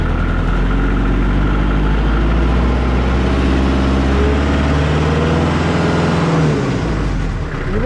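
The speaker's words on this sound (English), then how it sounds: "you would realize your engine revolution increases to give you more speed" A tractor engine runs loud and steady close by, its revs climbing as the throttle is opened to raise speed, with a low, continuous mechanical drone throughout.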